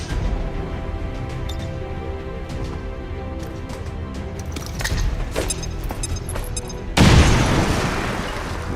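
An explosive charge blasts open a new exit in XCOM 2: War of the Chosen. Steady game ambience and scattered clicks lead into one sudden, loud, close detonation whose rumble trails off slowly.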